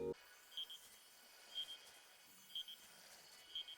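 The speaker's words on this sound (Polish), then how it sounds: "Zazwyczaj znajduje się gdzieś w okolicy 100 metrów od sejfu i pika, gdy się do niego zbliżymy." A vault key in the Warframe video game beeps as the player nears the safe, faint paired electronic chirps repeating once a second over quiet game ambience.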